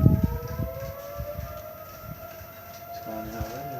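Civil defense tornado warning sirens wailing outdoors in Rock County, Wisconsin, a steady tone from a distance with faint rumbling underneath.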